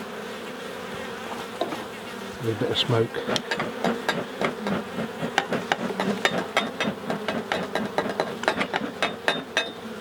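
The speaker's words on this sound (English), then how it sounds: "that's a lovely frame of bees, look. Nice and healthy and busy" Honey bees busy on a healthy hive frame give a steady close buzz, broken by sharp clicks and taps from the frame and tools, with someone talking briefly over it.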